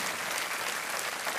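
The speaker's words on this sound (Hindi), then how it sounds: "इनका एक बार फिर तालियों के साथ अभिनंदन किया जाए।" Studio audience on the KBC Hindi quiz show breaks into dense, steady applause that fills the whole moment at even loudness, with no voices standing out.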